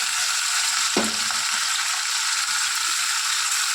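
Soaked khas rice drops into a hot pan of sizzling food and is stirred, with a loud steady frying hiss throughout and a brief clatter as the grains go in near the start.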